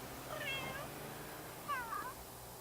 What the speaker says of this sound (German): da draußen sehe ich gerade, die Katze sauft aus der Pfützen